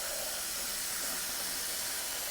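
Water boils in an egg cooker holding five eggs, giving off a loud, steady hiss of steam that runs unbroken and close by, with no voices.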